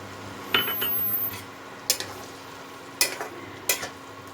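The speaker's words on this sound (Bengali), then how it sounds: "এবার একটু ভালো মতো এগুলো ভেজে নেব।" Vegetables frying in a pan for pui metuli, with a steady low sizzle and a few sharp clanks of a utensil stirring against the pan at irregular intervals, close and moderately loud with no talking.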